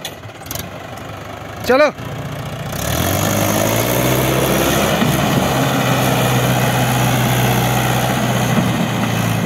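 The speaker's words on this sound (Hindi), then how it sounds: "पूरे महिंद्रा 585 DI आई है।" A Mahindra 585 DI tractor engine starts up and then runs at a steady, loud idle near the microphone, after a brief spoken word and a short knock.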